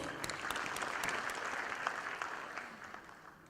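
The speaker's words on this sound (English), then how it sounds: "A big round of applause." An audience at a leadership summit claps in a steady, fairly distant round of applause that slowly fades toward the end.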